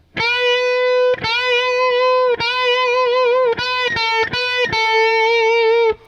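Distorted electric guitar plays a lick of repeated string bends, sliding up and alternating between bent and unbent notes, loud and sustained.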